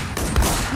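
A single loud gunshot from a gun in the video game WarZ, heard as one close, punchy burst that rings out briefly.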